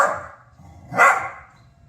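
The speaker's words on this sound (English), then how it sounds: "I know you want the mouse, but you don't need to be barking" A small indoor dog barks twice, a sharp close yip at the start and a louder, higher bark about a second later, with quiet room noise between.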